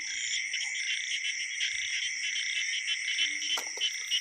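Frogs croak in a rice field at night, a dense, continuous chorus of rapid trilling calls with cricket-like chirps mixed in and no voices.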